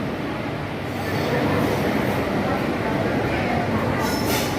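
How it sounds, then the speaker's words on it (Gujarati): A train pulling into a railway station, a loud continuous rumble and roar of wheels and carriages close by, steady throughout with faint squeals, no clear speech. "અત્યારે ટ્રેન આવી"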